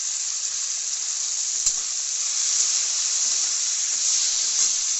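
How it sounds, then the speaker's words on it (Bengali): Chopped tomatoes hit hot oil with fried onions in a kadai for ghugni, giving a loud, even hissing sizzle up close with one brief knock partway through. "কুচিয়ে রাখা টমেটোগুলো এবার কড়াইয়ের মধ্যে দিয়ে দিতে হবে।"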